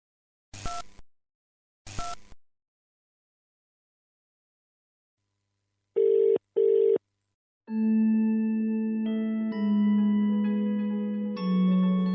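An unanswered phone call ringing out: two short clicks, then a pair of brief electronic ringback beeps, followed by a sustained, steady electronic tone sequence, clear and close with no voices.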